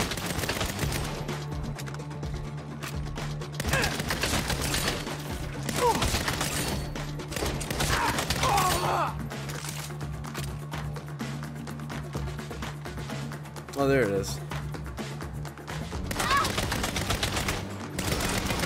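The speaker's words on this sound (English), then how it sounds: "Being shot at." Rapid gunfire bursts in the Saints Row video game, with dense machine-gun-like volleys and thuds continuing over a steady musical drone, loud and sustained throughout.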